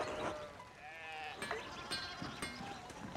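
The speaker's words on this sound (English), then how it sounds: "Oh, there's sheeps everywhere" Several sheep bleat in the medieval game Pentiment, their wavering calls overlapping near and farther off, with a few sharp clicks scattered between them.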